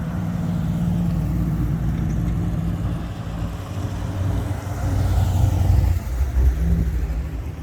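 An old ute's engine rumbles and revs in a classic car parade, a deep steady drone that swells louder midway as the vehicle passes close, with no talking.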